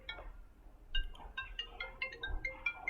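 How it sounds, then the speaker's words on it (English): A mobile phone ringtone plays as a repeating electronic melody of bright, clear tones. It starts about a second in and continues fairly quietly over low room noise. "So sorry, my phone is ringing."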